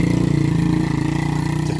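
A motorcycle engine idles with a steady, close, throbbing rumble in a hillside village at Dusun Butuh, Kaliangkrik, Magelang, holding an even pitch without revving.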